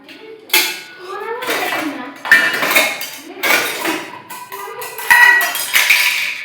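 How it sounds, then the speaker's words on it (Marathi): Metal utensils clatter and clink in repeated bursts as they are set down and arranged, close and fairly loud, with occasional voices. "इथं भांडी मांडायचं विचार करून मांडावं लागतं"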